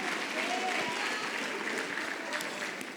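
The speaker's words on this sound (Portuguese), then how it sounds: "Você pode aplaudir o nome do Senhor Jesus e glorificar o nome dEle" A church congregation applauds, a dense, steady clapping of many hands filling the room and fading slightly at the end.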